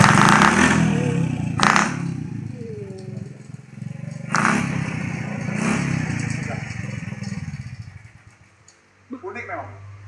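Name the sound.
kick-started homemade modified motorcycle engine running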